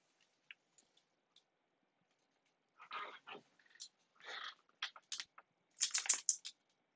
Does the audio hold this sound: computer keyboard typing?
yes